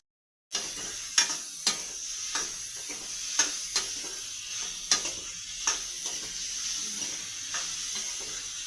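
Onion sautéed with curry leaves and green chillies in a pan for a rustic Maharashtrian dried-fish curry, a steady soft sizzle broken by regular scraping strokes of the stirring spoon, close and alone with no talking.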